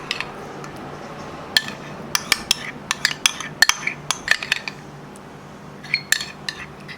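Butter residue being scraped and emptied out of a metal pot, heard as a quick series of sharp metallic clinks and scrapes from a utensil against the pot, close and moderately loud over a quiet room.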